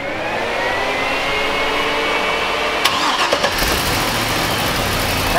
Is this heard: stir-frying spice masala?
no